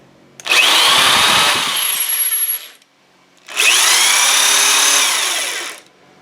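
A cheap power drill cranking a drill press table whirs loudly in two long sustained bursts, each a few seconds, with a short pause between them.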